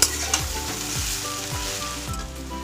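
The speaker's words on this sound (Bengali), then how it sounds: "এটা লাল লাল করে ভেজে নিচ্ছি" Cabbage fries in a pan until reddish, giving a strong, continuous close-up sizzle with stirring throughout and no talk.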